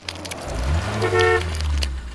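A cartoon bus horn gives two loud, close honks, a short toot followed by a longer blare.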